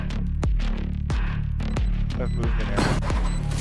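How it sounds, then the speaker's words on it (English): A Shorty shotgun fires repeatedly in Valorant, sending out several sharp, punchy blasts about half a second apart over a low rumbling game background, with a busier burst of clattering toward the end. "In a single moment, the small shotgun obliterates his opponent."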